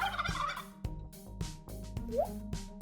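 A turkey gobbles in quick rattling bursts, close by, with a few sharp clicks and knocks scattered through the short recording.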